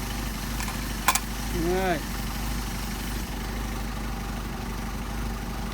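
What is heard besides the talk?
Mercedes 190SL engine idling with Solex carburetors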